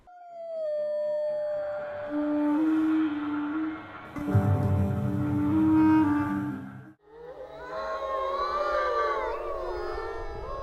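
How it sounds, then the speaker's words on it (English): Several wolves howl together at a wolf sanctuary near Tidewater in Oregon's Coast Range, in long, wavering, overlapping tones, a chorus that swells, briefly breaks off, then resumes with higher, more tangled cries. "you might hear the howls of these stoic beasts"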